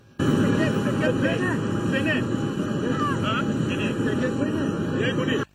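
An airplane comes to a stop at an airport: a steady, loud engine roar with a high whine held throughout, then cut off abruptly at the end.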